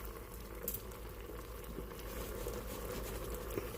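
Water boiling in a pot of steamed cabbage for Sunday dinner, a steady close bubbling and faint sizzle-like patter that holds evenly throughout with no talking.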